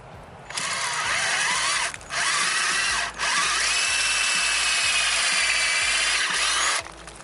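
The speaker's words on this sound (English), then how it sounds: "and then just drill" A power drill bores into a maple tree to tap it for sap, a loud close whine running in three long bursts with brief pauses between them and no voices.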